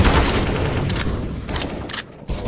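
Grenade explosion in Counter-Strike rolls into dense, loud broadband rumble mixed with rapid gunfire cracks, sustained for about two seconds before a brief drop and a final burst.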